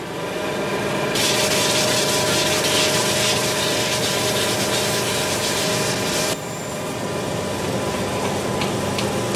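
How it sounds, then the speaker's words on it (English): A sanding machine smooths a wooden hurl in a workshop, giving a steady loud abrasive whir with a harsher grinding rasp for several seconds before it eases back to a lower hum. "The sanding machine has speeded up this part of the job."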